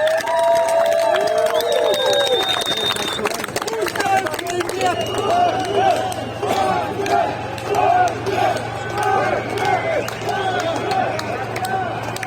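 A crowd in the streets of Rostov cheers, whistles and applauds as Prigozhin departs. Shouts and a dense babble of many voices rise over scattered clapping and a steady low engine hum.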